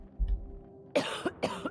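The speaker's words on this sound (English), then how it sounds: "Don't cough on me." A game character in The Outer Worlds coughs twice, close and fairly quiet, each cough a sharp rough burst, after a short low thump.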